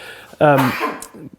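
A single sharp sneeze bursts out close by, with a quick breathy intake before it and a brief tail after.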